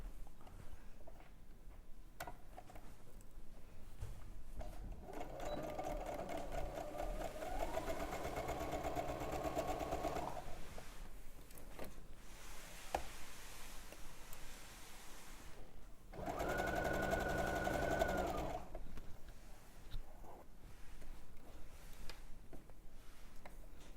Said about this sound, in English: you're going to stitch up the side seam and then go all the way down through your sleeve and all the way down to the edge